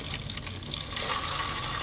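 Water runs steadily while guava fruits are washed, making a continuous close splash and gush that stays at an even level throughout with no talking.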